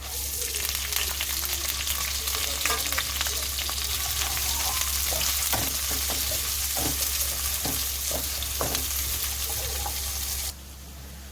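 Chopped onions fry in a pan for Chennai-style mutton biryani, a steady loud sizzle and hiss with repeated scraping clicks of a spoon stirring, continuing until the end with no talking.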